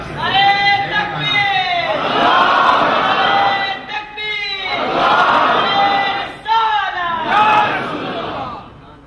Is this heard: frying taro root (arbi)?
no